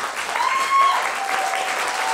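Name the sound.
candidates applauding each other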